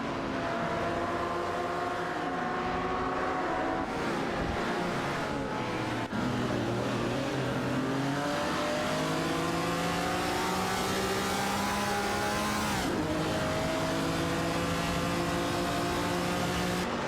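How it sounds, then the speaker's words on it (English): A Bizzarini 5300 GT Strada and a 1969 Pontiac GTO dueling in a racing video game, with engines droning loudly and continuously as their pitch climbs and drops through gear changes, several engine tones overlapping throughout. "Red Panama is piloting a Bizzarini 5300 GT Strada, while Sidrek is behind the wheel of a Pontiac GTO 69, showcasing a classic car duel"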